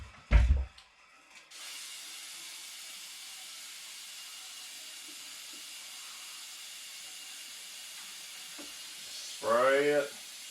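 A steady aerosol hiss of spray paint sprayed onto water for hydro dipping a European mount lasts several seconds, starting after a brief thump, then a short voice-like burst cuts in near the end.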